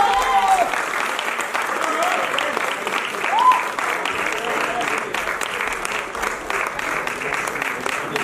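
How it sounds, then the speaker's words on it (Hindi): At a theater festival award ceremony, an audience breaks into sustained applause, steady dense clapping filling the whole stretch with murmured voices underneath. "तालियां"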